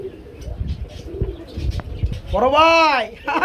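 Caged pigeons at a farm sale give one clear, rising-and-falling coo near the end, after scattered shuffling and faint background noise.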